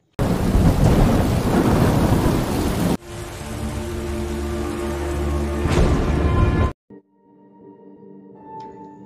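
Heavy rain pours and thunder rumbles in a stormy city scene set in Seattle from The Last of Us Season 2, loud and dense at first, then shifting to a deep rolling boom before cutting to near silence.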